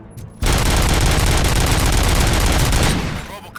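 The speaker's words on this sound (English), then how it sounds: "Gunshots? What's going on?" A long, dense burst of loud automatic gunfire from the Robocop: Rogue City video game, a sustained rattling fusillade lasting about three seconds before tapering off, following a brief quieter moment.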